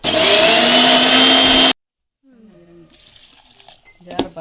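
A loud whirring grinder roars steadily for under two seconds, then cuts off abruptly, followed by quieter clatter and shuffling.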